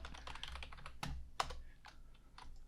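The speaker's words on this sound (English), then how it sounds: "Hope my keyboard sound's coming through loud enough." Typing on a computer keyboard, a quick irregular run of light clacks and taps close by, some keystrokes landing harder than others, with no voices.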